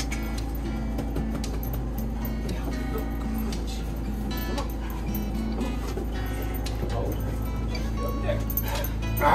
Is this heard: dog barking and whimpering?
yes